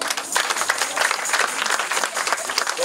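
A church congregation applauds and cheers loudly at a New Year's Eve crossover night service, dense clapping and voices filling the room for the whole stretch, close and steady.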